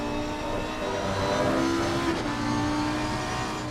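A 5.2 litre V10 race car in a racing video game at Monza screams at high revs, a sustained, steady engine whine with a slight pitch rise midway.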